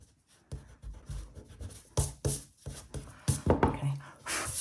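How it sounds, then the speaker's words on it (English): Eraser rubbing out pencil guide lines on watercolour paper, a run of quick, scratchy back-and-forth strokes in uneven bursts, close up with no talking. "Just rub a bit more out here."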